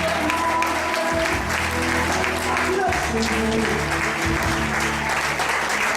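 A church congregation applauding and cheering for Jesus, a dense, loud, steady wash of clapping and shouts filling the whole stretch with voices mixed in.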